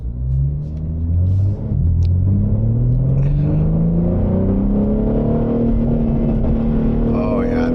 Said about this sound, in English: The burbles sound more aggressive.